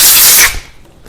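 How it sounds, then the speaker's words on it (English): A short, sharp burst from a compressed air hose blowing out a Generac SVP 5000 generator carburetor hisses loudly, then fades quickly into quiet. "Then we can take the air hose and just do a little spraying."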